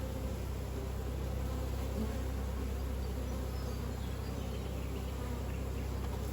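Honeybees buzz in a dense, steady drone throughout a hive inspection, close and continuous with no talking.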